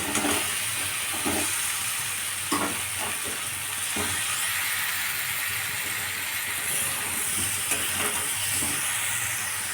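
Fried potatoes sizzle and hiss steadily in a pan of spice masala, with soft scraping stir strokes recurring every second or two, close and continuous, no talking.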